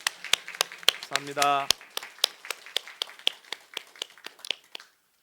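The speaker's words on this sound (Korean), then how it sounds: "우리 하나님께 감사의 박수를 올려드리겠습니다" A church congregation applauds during a Korean Sunday service, with scattered claps close by that loosen into an uneven patter and then fade, while someone speaks briefly partway through.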